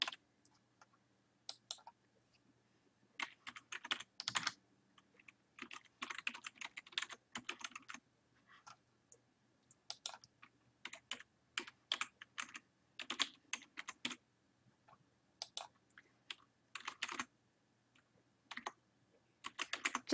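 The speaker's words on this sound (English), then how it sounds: "Type in your first name, your last name," Names being typed on a computer keyboard during account sign-up, with bursts of rapid, close key clicks separated by short pauses, no voice.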